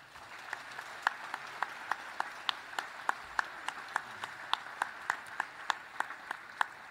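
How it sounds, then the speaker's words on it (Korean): Scattered, sparse clapping in the National Assembly hall during a Constitution Day ceremony, individual claps spaced out at a slow, uneven rhythm, fairly distant and faint with light background murmur. "재원 의원 유족회에 큰 박수 부탁드립니다."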